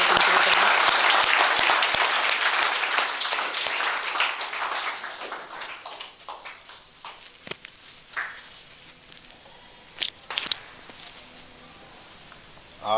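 Dense applause from a crowd at a yoga workshop at an inter college in Aligarh, India, fades over several seconds into a few scattered, isolated claps.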